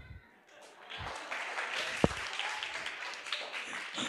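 A group at a children's Sunday school game session claps, soft at first, then sustained moderate applause with one sharper clap standing out, and no voices over it.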